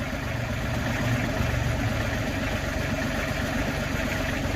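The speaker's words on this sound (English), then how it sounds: "This is the first time we've actually dug with this backhoe into some dirt." A 2023 Besthand BH6600HT backhoe engine idles and works steadily while digging into hard-packed dirt, a close, constant low rumble and drone with no talking.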